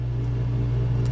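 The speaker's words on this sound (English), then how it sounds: "Pardon the noise of my heater." A Mr. Heater space heater runs with a steady low mechanical hum, a constant droning tone nearby, unchanging throughout.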